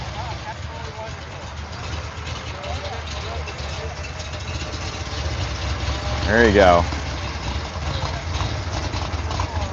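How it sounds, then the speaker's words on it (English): A Corvette Stingray idles steadily at a Saturday Cars & Coffee meet, a low continuous engine rumble that rises briefly as it pulls away, with people talking over it throughout. "That Stingray sounds good."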